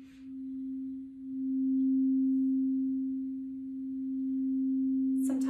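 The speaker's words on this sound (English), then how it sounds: "Let me just do a little play for you so you can hear exactly how they sound." A crystal alchemy singing bowl rings with one steady, pure sustained tone that swells and holds for several seconds, alone and fairly quiet, before a brief knock or clatter near the end.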